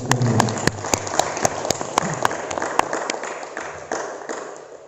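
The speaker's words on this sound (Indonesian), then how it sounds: "Tepuk tangan Bapak Ibu sekalian." Audience applause at a Javanese cultural association meeting on wedding protocol, a dense patter of many hands under sharp individual claps that slowly thins over five seconds, with a voice partly heard at the start.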